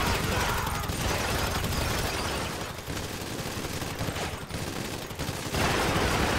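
Heavy, continuous gunfire fills a GTA Online heist finale at the Pacific Standard bank, a dense wash of shots that barely lets up across the whole stretch.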